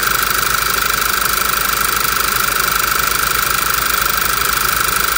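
A Volkswagen Passat B7 1.8 TSI with a faulty crankcase breather idles steadily and close by, a continuous even engine rumble under a constant high-pitched whistle, with no voices.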